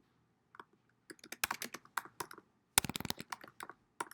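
Keys clatter on a computer keyboard while data goes into an Excel spreadsheet: close, crisp clicks in irregular bursts, with a rapid flurry midway and short pauses between.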